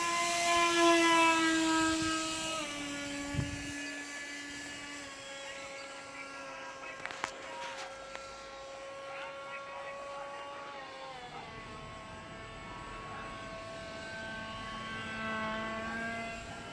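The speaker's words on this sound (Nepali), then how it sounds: "पहिला यो चाहिँ प्लेन उडिसकेको छ" A radio-controlled model aeroplane flies overhead outdoors, its high, buzzing engine whine rising and falling in pitch as it passes, steady and fairly loud throughout.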